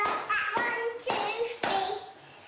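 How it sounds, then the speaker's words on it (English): A small group clapping hands together along with a song, a few loud, uneven bursts of claps close by with some faint voices and singing underneath. "Clap your hands together"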